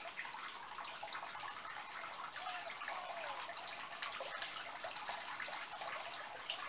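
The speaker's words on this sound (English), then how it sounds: "Comes the water." Water runs steadily from a tap, a constant hissing gush with a faint high tone, no voices over it.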